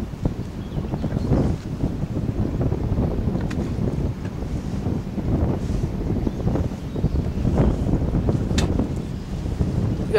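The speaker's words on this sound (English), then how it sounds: "Wind's ripping out here." Strong wind buffets the microphone on Lake Erie's Erie Bay, a loud continuous roar with gusting surges and low rumble throughout, no voices.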